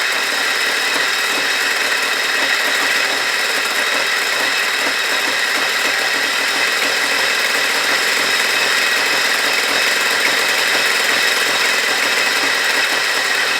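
A 1983 Ford Ranger engine idles after a cold start in snowy weather, a steady, even drone with no change in pitch or rhythm throughout, loud and close with no voices.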